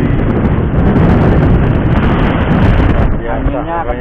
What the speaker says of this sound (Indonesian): anginnya kencang banget mas bro.